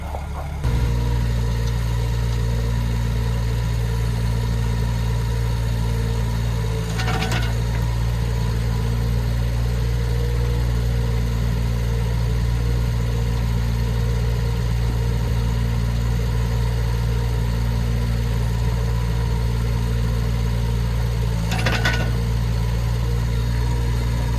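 A brand new digger's engine idles steadily and close by, a constant low rumble with a faint whine on top, unchanging throughout with no voices.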